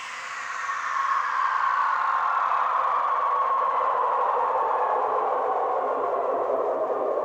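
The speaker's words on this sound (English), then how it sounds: "Now what you're hearing there is a 26-second reverb," Long synthesized whoosh sent through a 26-second reverb in an electronic music production session, a broad airy wash that swells in within the first second and then sustains loudly and evenly, slowly darkening as it fades, with no voices.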